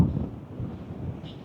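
Strong wind buffeting the microphone at Saud Beach in Pagudpud, a steady low roaring rush that fills the short stretch on its own, with no voices.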